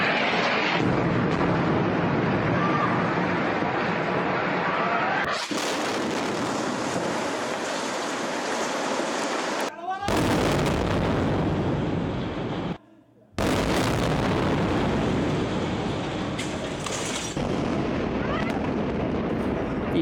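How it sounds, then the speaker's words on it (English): Heavy, continuous rumbling roar from Israeli warplane bombs exploding during airstrikes on Gaza, loud and sustained with a few abrupt cuts and short gaps between segments. "warplanes have unleashed a torrent of bombs hitting targets in Gaza"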